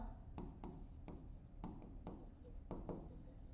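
Handwritten figures for an accounting problem, with the pen making quick rhythmic scratches and taps in short, evenly spaced strokes. Close and soft over a steady room hum.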